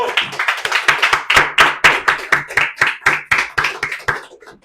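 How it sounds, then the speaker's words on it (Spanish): An audience at a cultural event on peacebuilding claps to welcome a young orchestra conductor, a loud run of distinct, close, fairly regular hand claps that fades out near the end. "a quien me gustaría que recibamos con un fuerte aplauso"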